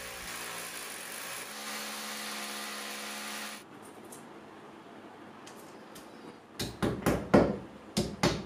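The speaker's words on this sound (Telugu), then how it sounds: "పాయింట్స్ పెట్టుకొని బబ్లింగ్ తోటి లెవెల్ చూసి ఈ విధంగా డ్రిల్ చేస్తారు." A power drill bores into a wall to mount a Livpure Liv Pep Pro Plus RO+UV+UF water purifier. A steady motor whine runs first, then after a quiet pause a series of short, loud drilling bursts follows.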